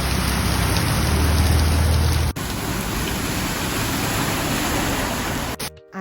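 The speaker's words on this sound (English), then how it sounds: "it was a lot of rain in Chiapas" Heavy rain pours steadily in Chiapas, Mexico, a dense, loud, unbroken hiss close by that cuts off abruptly near the end.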